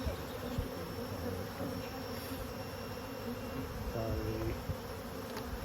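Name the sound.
honey bees in hive buzzing louder after smoking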